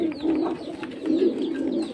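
Silver pigeons coo steadily in low, throaty, rolling murmurs that swell and fade, fairly close, with faint chirps and background noise and no talking.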